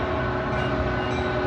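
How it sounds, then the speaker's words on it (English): A metro train pulls into a downtown station in Lake Forest, Illinois, with a loud, steady rumble and roar. No voices are heard over it. "There's a metro train coming in."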